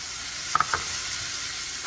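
Jasmine rice being stirred with cooked onion and garlic in a pan, with a quiet sizzle and a few light clinks of a spoon against the pan.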